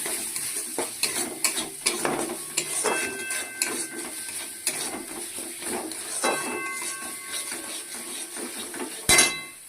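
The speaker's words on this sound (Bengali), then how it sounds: "তো এবার দিয়ে ভালো করে আবার মশলাটাকে কষিয়ে নেব।" Spice paste with salt and chopped tomato being sautéed for a prawn malai curry, a steady close sizzle broken by repeated scraping stirs and light clinks of a utensil against the pan, with one sharper knock near the end.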